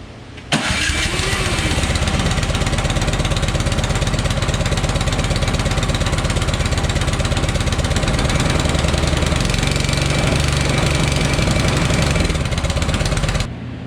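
Troy-Bilt 2620 snowblower engine with a newly replaced ignition module cranks and fires, then runs at a loud, rapid chugging idle close by. Its pitch shifts partway through as the throttle is adjusted, and it cuts off at the end.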